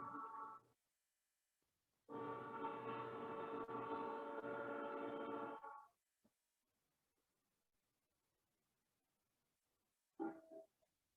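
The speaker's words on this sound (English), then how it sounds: "We'll wait for the railroad train to get through here in just a second." A railroad train sounds a loud horn outdoors, with one short blast, then a long sustained blast of several seconds, then a brief final toot, separated by near silence.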